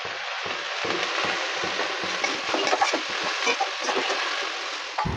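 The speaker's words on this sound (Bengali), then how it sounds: "ভাজা আলুগুলো মিশিয়ে দিচ্ছি।" Fried potatoes are stirred into a sizzling pan of banana blossom curry, a steady close frying hiss with soft scraping and stirring clicks throughout, no talking.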